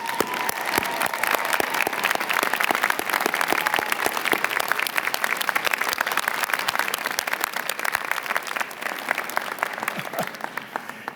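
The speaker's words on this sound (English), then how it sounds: "Let's give your families a huge round of applause." A large convocation crowd applauds the graduates' families, a long, sustained burst of many hands clapping with crisp individual claps standing out, holding strong and easing slightly toward the end.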